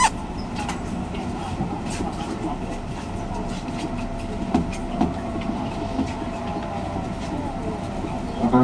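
A JR 201 series rapid train runs between Nara and JR Namba, its steady loud interior rumble carrying rhythmic wheel clicks over rail joints, with faint scattered clanks throughout.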